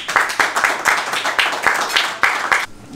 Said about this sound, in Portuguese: E recebe um forte aplauso o Hugo Soares